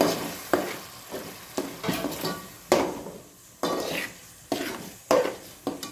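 Curd is stirred into mutton pieces for biryani in a pot, with a steady rhythm of loud scraping, stirring strokes over a soft sizzle, each stroke ending in a sharper knock of the spoon.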